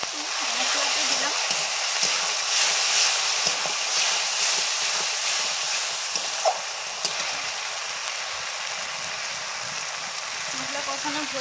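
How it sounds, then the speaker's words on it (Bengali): Spice paste for a crab curry fries in a pan with a steady, broad sizzle and hiss that holds for the whole stretch, close and fairly loud, with no talking over it. "মশলা কষানো হয়ে গেছে"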